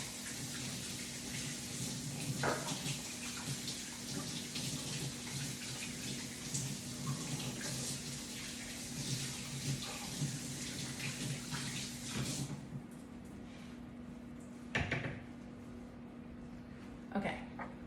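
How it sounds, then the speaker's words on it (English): A kitchen tap runs as hands are washed under it, a steady close splashing stream that lasts most of the clip before cutting off, followed by a few brief splashes. "Let me just wash my hands real quick."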